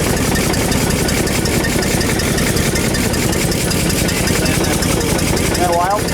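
An old engine runs after its fuel and air are adjusted, a loud, close, steady rhythmic chugging with rattling throughout.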